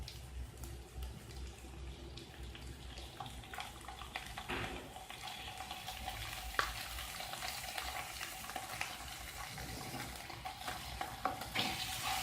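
Cheesesteak filling sautéing in a pan over a low flame, a soft continuous sizzle with frequent scraping and clattering stir strokes throughout, fairly quiet and steady with no talking.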